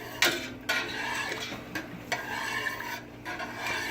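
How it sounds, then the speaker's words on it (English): A spoon or whisk stirs a gallon of whole milk in a metal pot for champurrado, making close scraping and rubbing strokes with sharp clinks against the pot's sides and a soft swish, no talk. "Whole gallon of whole milk. And we're just gonna mix this."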